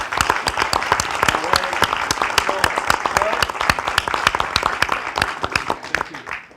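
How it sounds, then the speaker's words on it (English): An audience at a hackathon finals event applauds with dense, continuous clapping that holds steady for several seconds before tapering off at the end. "let's give him a big round of applause"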